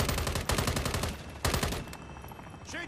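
Rapid automatic gunfire from Call of Duty MW3 Zombies on Xbox Series X during a zombie boss fight, loud dense bursts of shots in two volleys with a brief lull between them, and no talk over it.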